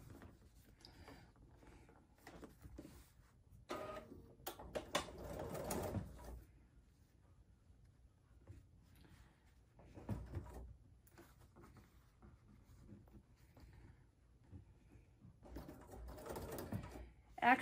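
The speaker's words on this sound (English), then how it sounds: "I'll just sew this edge really quick." A home sewing machine stitching along the edge of a quilted Poppins bag, running in short mechanical bursts of whirring with quiet pauses between them, fairly soft and close up.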